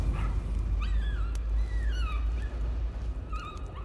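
In the horror game Layers of Fear, a dog whimpers in several thin, rising whines, spaced across the stretch over a loud, rumbling low ambient drone.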